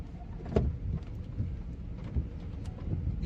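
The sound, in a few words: thunderstorm with rain, hail expected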